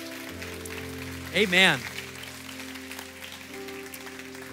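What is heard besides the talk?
congregation clapping hands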